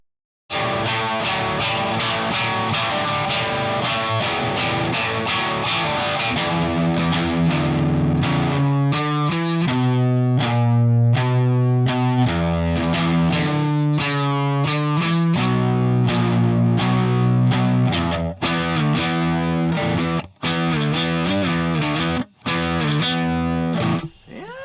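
Heavily distorted high-gain electric guitar through a Kemper amp, playing chugging riffs and sustained chords, loud and continuous, with a few abrupt stops near the end.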